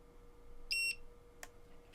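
A small gadget gives a single short electronic beep as it powers up, clear and close against a quiet room, followed by a faint click.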